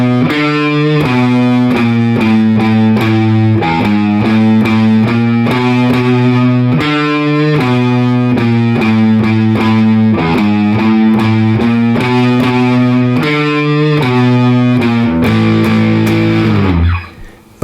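A distorted electric guitar plays the bridge riff of a song, a steady chugging run of loud, sustained power-chord notes that changes pitch in repeated phrases, alone and close, and cuts off at the end.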